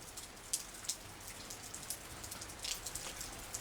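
Steady rain falls and keeps worsening on a surface near a slow, clogged street drain, a soft continuous patter with a few sharper drops standing out, fairly faint, with no voices.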